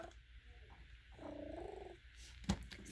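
A cat purrs softly and steadily up close, with a faint harmonic tone rising briefly in the middle and a small knock near the end.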